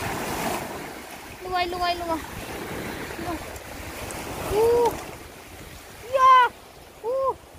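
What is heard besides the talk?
fast-flowing water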